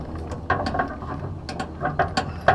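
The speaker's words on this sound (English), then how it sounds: "So I need to put the shaft on, line up the holes, and put the bolt in" Metal clicks and clanks sound as a shear bolt is fitted into the driveshaft of a Woods RCC42 rotary cutter, a series of close, irregular taps without talk.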